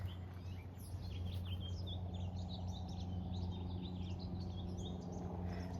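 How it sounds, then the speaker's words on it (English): Birds sing and chirp in a food forest on a spring day, with small scattered calls at a middle distance over a low steady hum of outdoor background. "So it's fun to be out here and listen to the birds."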